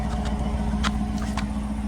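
A 2024 Dodge Durango RT with the 5.7 L HEMI V8 and true dual exhaust idles close by, a steady deep low rumble with no revving.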